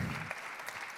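Audience applause welcoming speakers at the opening of a 2024 conference, a short burst of dense clapping that starts full and thins out quickly.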